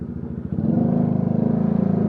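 A motorcycle engine with a freshly replaced spark plug, rectifier and stator idles steadily and close by, a low pulsing thrum that firms up after a brief dip at the start and runs on evenly.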